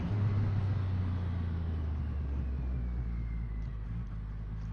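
A Triumph Rocket 3 R with its 2.5 litre engine out on the road, a deep continuous engine rumble and drone that holds steady, then eases slightly toward the end, no voices.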